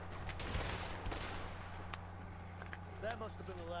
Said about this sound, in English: Oh, I'm getting shot in the back now.